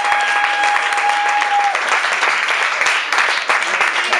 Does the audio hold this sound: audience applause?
yes